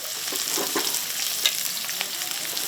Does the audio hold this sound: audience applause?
no